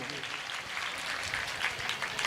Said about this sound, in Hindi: आइए जोरदार ताली बजा करके कार्यक्रम का अभिनंदन करेंगे।